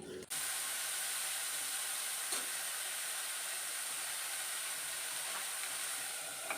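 Rohu fish pieces frying in hot oil, a loud, steady hiss and sizzle held close throughout, with a few faint clicks and light background noise.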